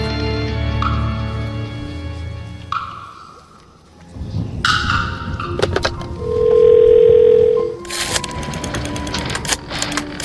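An old telephone in the game Phantasmat gives a single sustained dial tone lasting about a second and a half, set among clicks, clunks and eerie electronic sounds.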